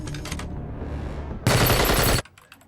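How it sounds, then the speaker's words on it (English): Film gunfire erupts as a loud, sustained burst of rapid automatic shots, preceded by a rumbling low score and cut off abruptly into scattered echoes. "the eye in the sky is picking up gunfire in Zone 12"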